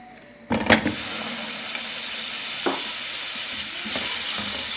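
Flour goes into a hot, ready frying pan for a spaghetti dish, bursting into a loud sizzle at once, then settling into a steady close hiss with a few brief scrapes.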